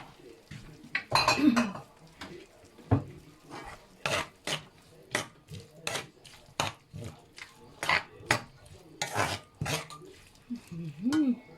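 Bean sprouts stir-fried in a pan with a little sweet sauce, giving repeated scraping and clattering strokes of a utensil against the metal pan at an uneven rhythm, with a voice speaking briefly at times.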